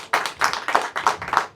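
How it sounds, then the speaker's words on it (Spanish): A church congregation claps during a service, a quick series of bright, evenly spaced group claps about three per second, close and alone. "Denle un fuerte aplauso al Señor."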